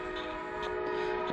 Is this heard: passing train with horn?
yes